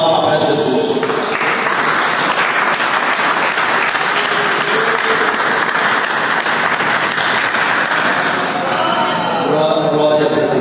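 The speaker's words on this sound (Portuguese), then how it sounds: "dê uma salva de palmas para Jesus" Congregation clapping in a church service, dense sustained applause filling the room for about ten seconds, loud and steady, with voices mixed in and rising near the end.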